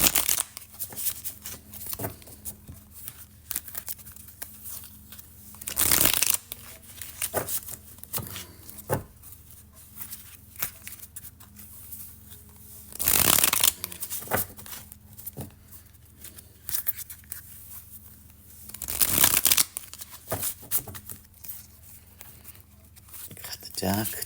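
A deck of Illuminati cards is shuffled in several quick, crisp riffling bursts, close and moderately loud, mixed with softer handling rustles between them.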